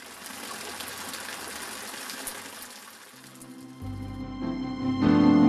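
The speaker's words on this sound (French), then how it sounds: "Celle-ci jaillit sous la Bastide, l'alimente une petite fontaine moussue avant de terminer sa course dans un large bassin d'arrosage." Spring water gushes from beneath a bastide into a small mossy fountain, a steady broadband splash that swells louder and fuller toward the end, with no voices.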